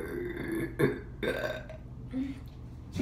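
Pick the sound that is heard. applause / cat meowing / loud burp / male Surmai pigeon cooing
loud burp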